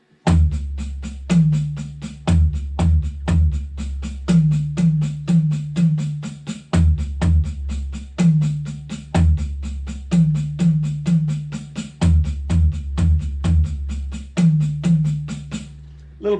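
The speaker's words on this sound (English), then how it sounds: "put the accents for the right hand on the floor tom and for the left hand up on the high tom" Drum paradiddle played with right-hand accents on the floor tom and left-hand accents on the high tom, a fast, even stream of sharp strokes with deep tom hits recurring in a steady pattern, loud and alone.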